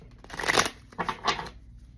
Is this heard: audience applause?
no